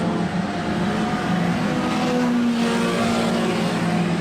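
Junior sedan race cars roar out of a turn at a dirt speedway, a dense, steady engine drone with a sustained pitch that shifts slightly as the pack passes, loud and continuous with no talk.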